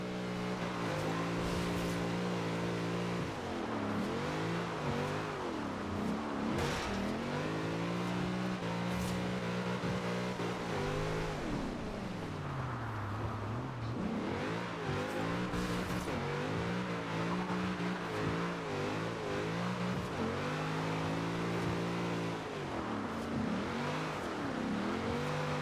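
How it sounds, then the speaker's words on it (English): A V8-swapped Nissan Silvia S13 in the rainy Forza Horizon 2 racing game revs repeatedly, its engine note sweeping up and down in pitch through gear changes and drifts, loud and continuous with no talking. "let's just take a listen to see how awesome this V8 sounds in this"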